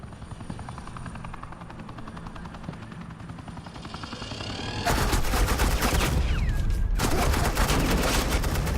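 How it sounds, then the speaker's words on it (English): Suppressing gunfire in the Batman Telltale video game sounds over a steady helicopter drone, as loud rapid automatic bursts start about halfway through, stop briefly and then resume, with no talking. "Suppressing fire."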